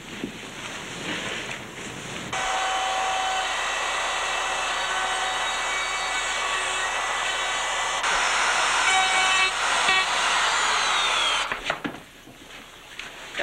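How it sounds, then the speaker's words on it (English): A handheld router cuts a 1/8-inch-deep channel along a fracture in a surfboard ding, a steady high whine running unbroken for about nine seconds, with a brief pitch change partway through before it spins down. "Now that I just routed it all out"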